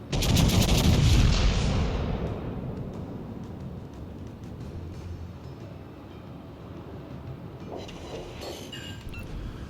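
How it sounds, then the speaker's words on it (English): Heavy naval guns of a Kansas battleship firing in World of Warships, a loud booming salvo at the start followed by a long rumbling decay and low battle ambience, with faint distant reports near the end. "Shots out."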